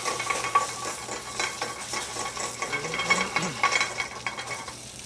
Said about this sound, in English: Now we're going to add our seasoned piece of grouper. We're going to sear it on one side,